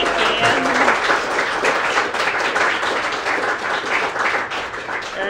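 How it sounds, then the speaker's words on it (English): An audience at a live Western States 100-mile endurance run event applauds loudly, a thick continuous burst of clapping that holds steady throughout. "Round of applause, please, for Stephanie"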